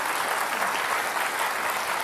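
Audience applause for Basuki Cahaya Purnama during a televised Jakarta governor candidates' debate on Mata Najwa; a dense, steady burst of clapping fills the short stretch without any voices.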